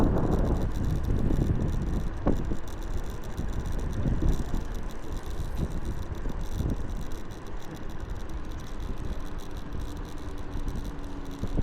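Wind buffets the microphone in uneven gusts by a bridge, with a low rumble of passing traffic and engine noise in the background; no one speaks.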